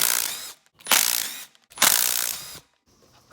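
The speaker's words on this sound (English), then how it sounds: "now I'm gonna go around and unbolt all these bolts with the impact gun" An impact gun rattles off cover bolts on an Arctic Cat 400 4x4 ATV in three short, close, loud bursts of rapid hammering, separated by brief pauses.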